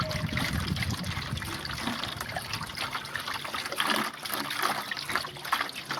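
Water poured out for two thirsty animals on a sunny day, a steady trickling, splashing stream running close and fairly loud through the whole stretch with no talking.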